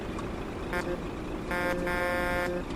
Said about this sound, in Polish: Świetnie, klakson.